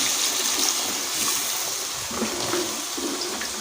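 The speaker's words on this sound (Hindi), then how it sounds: "अब हम इसमें डाल देंगे पानी।" Water pours into a pot of aloo matar curry, a steady splashing, gushing stream heard close and continuous for a few seconds with no talk.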